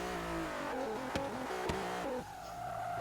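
A drift car accelerates hard on the course, its engine climbing through rising revs with a couple of sharp cracks before easing off, loud and close with no talking.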